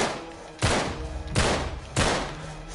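Gunfire from the Uncharted: Drake's Deception video game, with three loud, close bursts of shots spaced roughly evenly, each trailing off into echoing noise.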